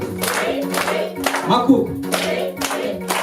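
An audience at an Easter celebration claps in a steady stream of hand claps over voices and a sustained musical tone, loud and close throughout.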